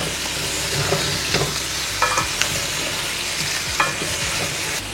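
Paneer cubes frying on low heat in a pan, stirred with a spatula: a steady sizzle with scraping strokes and small clinks throughout, close and alone, with no voices.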